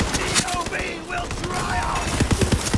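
Bursts of weapon fire in the shooter Borderlands 3, quick volleys of cracking shots that thin out in the middle and return as a tight rapid cluster at the end, with game effects and a voice mixed underneath.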